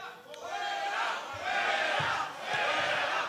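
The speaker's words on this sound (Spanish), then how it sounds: "Silbidos y abucheos que se mantuvieron con la intervención del portavoz socialista" Spectators at a Pontevedra council session keep up a sustained noisy roar of whistling and booing, a dense continuous crowd sound with a few sharp low thumps underneath.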